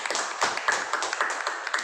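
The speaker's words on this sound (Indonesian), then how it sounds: "berikan tepuk tangan." Eighth-grade classroom of students clapping their hands, a quick run of irregular, moderately close claps from a small group.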